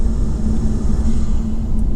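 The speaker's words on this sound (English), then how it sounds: "You can hear that intake, the exhaust noise" Tuned 600 hp Alfa Romeo Giulia Quadrifoglio idling in natural mode, its intake and exhaust making a loud, steady low rumble with an even hum and no voices.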